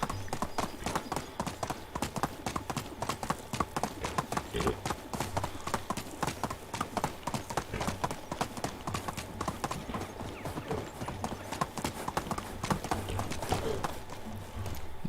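Black horse hooves in the medieval survival game Medieval Dynasty, a steady rapid clip-clop of trotting running throughout, with occasional faint whinnies and bird calls in the background.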